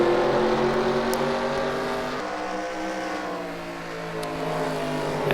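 Race car engines roar continuously in a stock car racing video game, a 1979 tan Dodge among the field, with a steady loud droning engine note that shifts pitch midway as cars hold speed, no voices over it.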